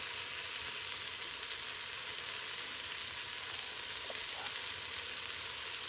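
Mushrooms sizzling steadily in a pan for squash tomato soup, a constant close frying hiss with no talking.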